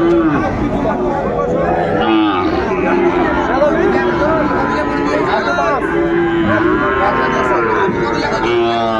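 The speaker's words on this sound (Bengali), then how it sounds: "শাহিওয়ালের ষাঁড় বাচ্চা আমরা দেখছিলাম।" A Sahiwal bull calf moos repeatedly at a busy cattle market, its calls loud and close, with other cattle lowing and a babble of crowd chatter underneath.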